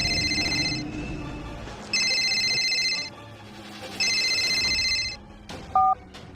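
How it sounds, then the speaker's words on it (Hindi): A phone rings in repeated electronic bursts, three roughly one-second trills separated by pauses, followed by a short double beep, fairly faint and with no voices. "अगले दिन सुबह विनोद के फोन की घंटी बजी"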